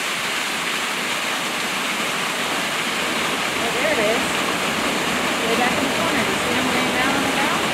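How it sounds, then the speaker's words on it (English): A waterfall and stream in a zoo enclosure give off a steady, loud rushing hiss of falling and flowing water, constant throughout with a faint voice murmuring beneath it. "You guys got a nice waterfall and stream."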